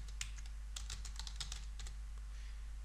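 Serial numbers are typed on a computer keyboard in irregular quick bursts of close, crisp key clicks over a low steady hum, with no talk.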